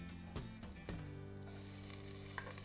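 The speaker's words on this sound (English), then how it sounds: "Okay, so let's saute. Let's start muna with our garlic," Garlic and onion sautéing in a pan for baked mac and eggplant, a soft, quiet sizzle with a couple of light utensil knocks, steady and close.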